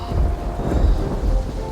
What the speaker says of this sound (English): Thunder can be quite loud and a little scary.